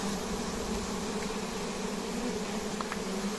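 Honey bees swarm around an apiary beehive in spring, a steady dense buzzing close by that fills the whole stretch without talk.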